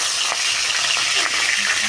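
Hilsa fish heads, just turned over, sizzle in hot oil with a dense, even, close frying hiss and small pops, steady for the whole moment and with no talking.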